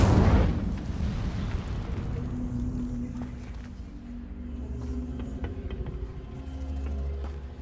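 A fire spell cast in the game Hogwarts Legacy erupts with a loud, booming burst, then settles into a sustained low roar and crackle that rumbles on alone for several seconds.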